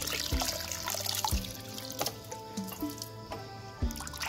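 Wild yam (kloi) tubers being washed in water, with a steady wet sloshing and trickling interrupted by several sharp splashes and knocks as the tubers are handled, close and fairly loud, with no talking.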